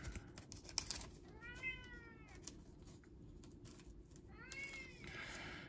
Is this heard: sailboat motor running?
no